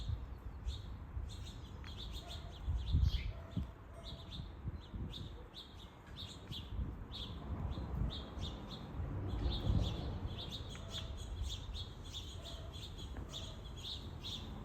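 Small birds, including a tit, chirp and tweet around a feeder in a sunny, lightly breezy backyard, with quick repeated calls at a moderate distance over soft outdoor ambience.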